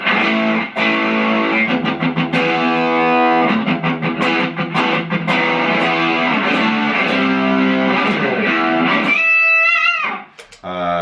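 A distorted electric guitar through an overdrive pedal plays sustained, gritty chords and notes, loud and continuous, ending with a few ringing high harmonics before fading out.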